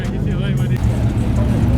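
A BMW M3 rolls into a car meet with a loud, steady, close engine rumble, and a voice talks over it.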